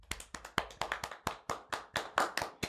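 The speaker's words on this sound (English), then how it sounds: "Everybody, clap your hands" A small group of people clap their hands together, a quick run of sharp, close claps in a loose, uneven rhythm that goes on steadily with no talk over it.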